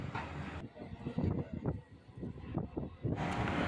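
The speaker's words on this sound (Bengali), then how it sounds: "এখন আমাদের ট্রেন বেগমপুর স্টেশন থেকে বেরিয়ে যাচ্ছে" A train pulls out of Begampur station in Hooghly district, West Bengal, on the Dankuni to Bardhaman line, its low rumble and rattling wheel clatter steady throughout, with a broad rushing roar swelling at the start and end.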